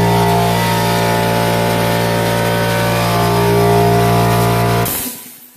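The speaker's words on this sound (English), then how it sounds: "This is a little roll air pancake compressor." A small Rolair pancake air compressor runs steadily at close range, a loud continuous motor drone with a strong low hum, then cuts off and winds down abruptly near the end.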